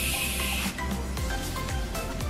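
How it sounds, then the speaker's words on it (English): Makeup setting spray is misted from a can onto a face in one loud, close, hissing burst, followed by softer rustling and handling noises. "I'm gonna quickly spray this on."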